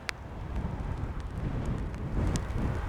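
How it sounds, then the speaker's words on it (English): Wind blowing outdoors during wet, windy landscape photography, a steady low rumbling roar buffeting the microphone throughout with a couple of faint brief knocks. "So the wind will just stop for a second"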